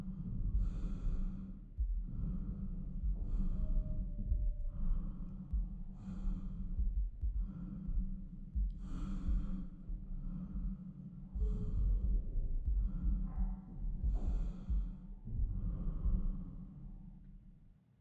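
Slow, steady breathing of a character inside a spacesuit in the space horror game Routine, each breath close and muffled, repeating in an even rhythm for the whole stretch.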